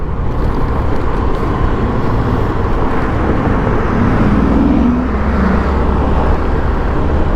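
A Mercedes car drives past on a road, a loud, steady engine and tyre rumble close by that swells slightly as it passes, with no talk.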